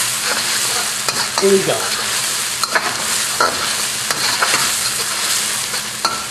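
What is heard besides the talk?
aromatics and sambal stir-frying in a wok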